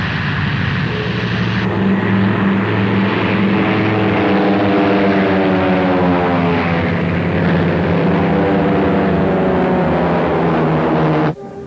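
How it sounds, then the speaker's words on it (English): Bomber aircraft approach a city in a film scene, a loud, continuous propeller engine drone that holds steady and rises in pitch before cutting off abruptly near the end. "Bombers are reported approaching the city from many directions"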